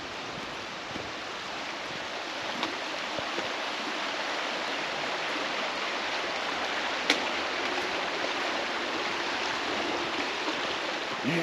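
The River Tweed flowing through wooded Borders countryside near Melrose, a steady, unbroken rushing of water at moderate distance with a few faint clicks, no voices.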